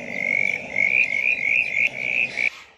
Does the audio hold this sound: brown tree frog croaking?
yes